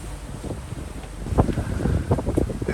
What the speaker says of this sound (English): Coming up to the peninsula, that's why it's so windy.